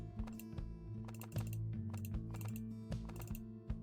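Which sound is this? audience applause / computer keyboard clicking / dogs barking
computer keyboard clicking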